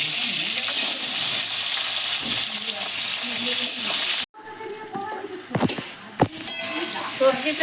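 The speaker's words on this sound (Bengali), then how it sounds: "এবার আমি সবজিগুলো দিয়ে দেবো ভাজার জন্য" Vegetables fry and get stirred in a pan seasoned with dried red chilli, radhuni and black cumin, a steady loud sizzle that cuts off abruptly, followed by scattered clanks and scraping of stirring close by.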